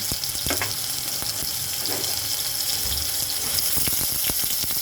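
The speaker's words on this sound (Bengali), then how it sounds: "এবার এটাকে সুন্দর করে ভেজে নেব" Ginger, garlic, onion and tomato paste frying for a country chicken curry, a steady close sizzle with occasional spoon stirs and scrapes, no talking.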